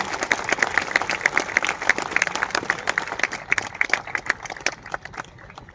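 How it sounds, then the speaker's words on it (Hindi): A crowd claps at a teachers' appointment-letter ceremony right after officials light the ceremonial lamp, a brisk, crisp round of many hands that thins toward the end. "तालियां बजती रहनी चाहिए"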